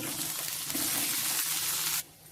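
Rice dumplings (undrallu) drop into a sizzling tempering of chopped chilli, curry leaves and asafoetida in a pan, making a steady close frying hiss with a brief stir that cuts off abruptly near the end.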